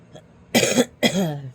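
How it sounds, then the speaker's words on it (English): Two harsh, loud coughs close up, one right after the other, with a brief gap between them. "there's my cough"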